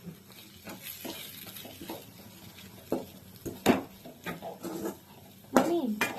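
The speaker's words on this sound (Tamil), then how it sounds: "இப்போ இந்த ஆனியன்ல இந்த மசாலாஸ் எல்லாம் சேர்த்துக்க போறேன்" Onions frying with masala spices in a pan for liver gravy, a steady close sizzle with repeated scraping and clattering stirs of a utensil against the pan.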